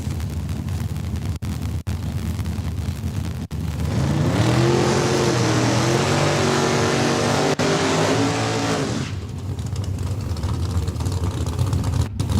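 Drag race cars launch down a Saskatchewan strip with a loud, rising engine roar that swells for several seconds, then fades back into crowd and ambient noise.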